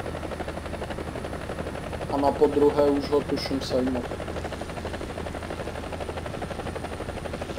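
A Bell AH-1G Cobra attack helicopter flies in War Thunder with a steady, throbbing rotor drone throughout, while someone speaks briefly over it partway through.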